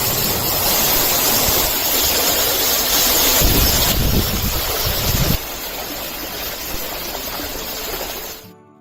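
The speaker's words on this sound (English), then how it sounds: "let me just play for you the water" A recording of flowing water plays back as a loud, steady rushing wash like a stream or waterfall, dense and continuous before abruptly cutting to a slightly thinner flow and then stopping.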